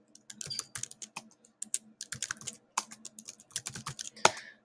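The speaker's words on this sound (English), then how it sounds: "if you hit the backspace button, sometimes it brings you back a level" Computer keyboard keys are tapped in quick, uneven bursts of close, crisp clicks, with short pauses between the clusters.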